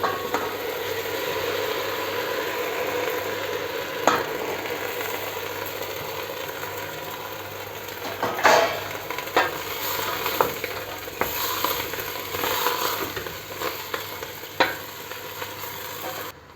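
Okra added to a pan over tomato paste and sautéed: a steady close sizzle with scattered clacks and scrapes from stirring, busier in the second half.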